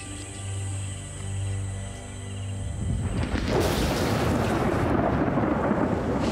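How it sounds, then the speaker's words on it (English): A low rumble of thunder rolls first, then heavy rain bursts in and pours steadily, loud and dense, with no voices. "It's raining."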